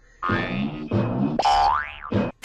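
A quick run of goofy cartoon sound effects: wobbly bursts followed by a sliding, springy boing that swoops up and down, ending with a sharp click.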